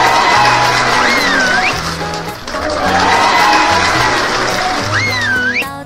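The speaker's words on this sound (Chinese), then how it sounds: "大家在现场欢呼雀跃" A video-game crowd cheers and whistles at a marathon finish line in Sakura School Simulator. The steady roar runs over an upbeat game melody, with rising whistle swoops repeating twice.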